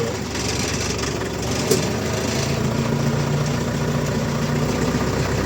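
A Scout 404 tractor engine runs in first gear while ploughing a corn field with a Kverneland plough, giving a steady, loud, even drone with a brief knock near the start.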